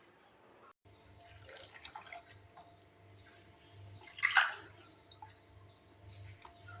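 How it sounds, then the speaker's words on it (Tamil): Water is poured into a sorghum flour porridge mixture with salt and coriander leaves, giving soft trickles and wet splashes that peak briefly in the middle, faint and close over a low steady hum. "இப்போ இதை 2 கப்பு தண்ணி ஊற்றி கரைச்சிக்கலாங்க."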